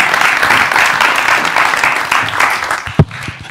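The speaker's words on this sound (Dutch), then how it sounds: "Graag een warm applaus voor Arjon." A festival audience at IMPAKT gives warm, dense applause, a continuous loud wash of many hands that thins slightly toward the end, with one sharp thump near the close.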